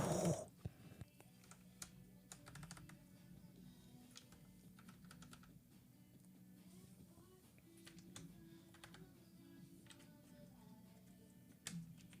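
Typing on a newly built mechanical keyboard with keycaps fitted, a steady stream of soft, close clicks and clacks running throughout under faint room hum, with a brief louder burst near the end.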